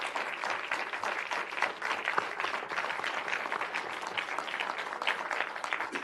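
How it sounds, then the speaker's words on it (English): Room applauding assembly members at an offshore drilling hearing, sustained dense clapping from a sizeable audience throughout, with no talk over it. "I want to applaud, and I hope the room joins me in applauding every single one of you that is up there today."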